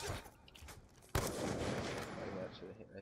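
Gunfire in a video game match bursts in as a sudden loud volley and continues in rapid, sustained shots, with a player talking over the shooting.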